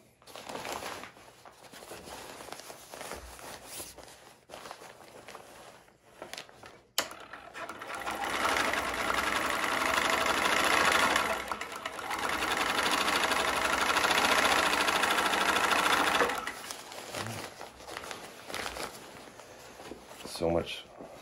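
A sewing machine stitches canvas for a winter camping hot tent, a steady, close mechanical whirr in long runs with brief pauses and handling noises between, and a voice talking briefly in places.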